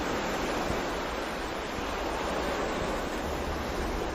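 Steady ocean surf washes onto a sandy beach in a continuous, even roar with no distinct breaks, moderately loud and alone without voices.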